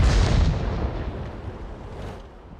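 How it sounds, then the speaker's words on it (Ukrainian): A heavy boom of Birch Gun self-propelled artillery fire in World of Tanks hits hard at the start, its low rumble rolling on and slowly fading with gritty, explosive noise. "наскільки далеко стріляє у нас ця наша березова гармата"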